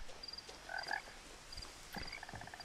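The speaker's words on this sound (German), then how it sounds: "Überall quaken die Frösche" Several frogs croak in short bursts within a quiet ambient scene in the video game What Remains of Edith Finch, the calls faint and scattered with brief pauses between them.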